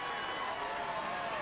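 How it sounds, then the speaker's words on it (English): A large racetrack crowd cheers and roars in a continuous, steady wash of noise as Zenyatta returns after winning the 2009 Breeders' Cup Classic. "Here's the reception as she comes back home to this loving crowd."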